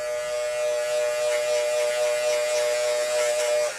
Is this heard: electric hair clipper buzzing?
yes